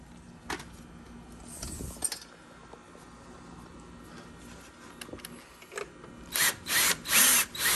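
A Ryobi drill works screws while a shelf is dismantled, giving faint intermittent mechanical whirs and clicks, then a run of three or four loud, sharp drill bursts near the end.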